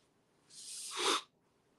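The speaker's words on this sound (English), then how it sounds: "Uh-oh, I feel a sneeze." A single quick sneeze, fairly quiet and close, builds from a soft breathy intake to a sharp burst, then falls back to near silence.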